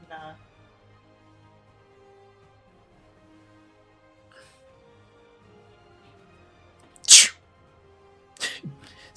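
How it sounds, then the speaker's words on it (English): A single loud sneeze bursts out near the end, followed by a short second burst, after a long stretch of quiet room tone with faint background sound. "Sneeze."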